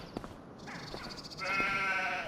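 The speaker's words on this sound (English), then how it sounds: "These sheep" A few synthetic-sounding sheep bleats from Farming Simulator 25, one after another, the last one longer and louder, with faint background tones.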